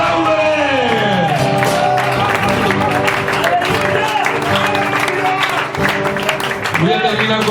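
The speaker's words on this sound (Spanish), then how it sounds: "¡Aplaude!" A church congregation applauding during a sermon, with dense clapping and some cheering from a crowd mixed with a loud voice and tonal background sound throughout.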